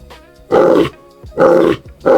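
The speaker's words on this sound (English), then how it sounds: "So a cub lion roaring a long roar." AI-generated lion roar, three loud, evenly spaced bursts, each about a third of a second long and separated by brief pauses, with no talking.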